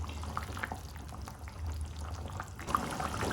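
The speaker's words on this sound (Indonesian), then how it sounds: "Kita rebus sampai kuahnya menyusut." Meat simmers in broth for satay, giving a low continuous bubbling and gurgling of liquid at moderate volume, with small pops scattered throughout.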